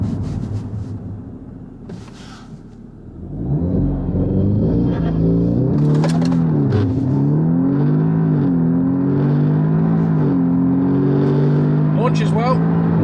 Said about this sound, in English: let's see if it'll just do a launch control